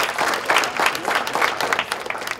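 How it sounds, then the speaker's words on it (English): An audience at a youth summit applauds, a dense and steady clapping that swells and then slowly thins toward the end. "If you give them both a big round of applause"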